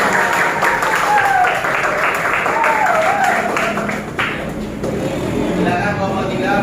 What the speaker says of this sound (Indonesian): Ayo, silakan tepuk tangan untuk kelompok 3.